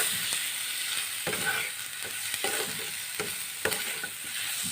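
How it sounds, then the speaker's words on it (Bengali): Chili powder, turmeric and ginger frying with tomato in oil, a steady close sizzle with intermittent clicks and scrapes of a spoon stirring the pan. "লঙ্কা গুঁড়ো, হলুদ গুঁড়ো আর আদাটা দিয়ে আমি ভালো করে একটু ভেজে নেব।"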